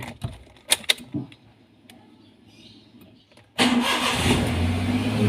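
A car engine starts: a few faint clicks and soft handling noises, then after a quiet stretch the engine abruptly catches and settles into a loud steady idle.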